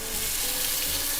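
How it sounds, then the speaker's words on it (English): Marinated lamb searing in a hot pan, a loud continuous close-up sizzle and crackle of frying with no talking. "Let me get a nice sear on one side."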